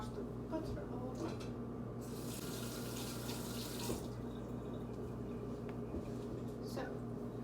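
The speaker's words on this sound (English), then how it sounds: "I'll wash the butter off." Water runs from a kitchen tap to rinse butter off, a steady close splashing flow that surges louder for a couple of seconds, with a voice talking over it.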